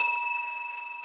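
A bell rings once, bright and sustained, its clear metallic tone slowly fading, with a faint second tap at the end.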